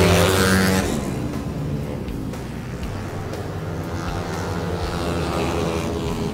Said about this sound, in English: You're watching Cavite Grand Prix and you are watching the Super Scooter category.